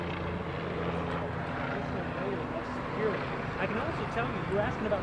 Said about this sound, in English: Air Force One has just landed at Palm Beach International Airport.